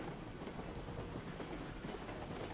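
A large locomotive pulling a small train in RailRoads Online rolls steadily downhill, a continuous rumbling roar with faint clickety-clack of wheels on rails and light hiss, with no talking.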